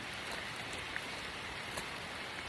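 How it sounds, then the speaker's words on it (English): Rain falls steadily outdoors during a dog walk, a soft, even, faint hiss of drops with no voices. "It's raining"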